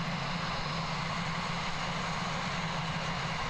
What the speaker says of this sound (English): this A320 taxiing towards us is NZ378